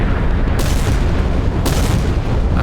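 A missile strike on a warship in a naval combat game, hitting a magazine, lands as two sharp explosive booms about a second apart over a loud, dense rumbling background.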